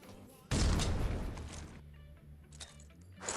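A frag grenade detonates in the shooter game Critical Ops as a loud, sudden blast that cuts in after a quieter stretch, then rumbles and decays over a couple of seconds, with faint game sounds continuing beneath.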